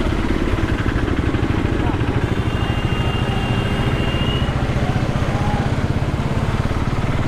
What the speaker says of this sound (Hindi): मैं इस समय बाइक पे जा रहा हूँ,